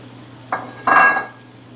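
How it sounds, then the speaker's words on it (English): Praline mixture of sugar and pecans cooking in a pan while being stirred, giving two short scraping, bubbling bursts over a steady low hum, close and moderately loud with no talk. "we're going to cook this and stir it until this thickens up a little bit"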